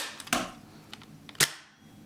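An RPM MWS GBBR gel blaster cycles its bolt and fires, two sharp close cracks about a second apart with faint clicks of the mechanism between them, in otherwise quiet surroundings.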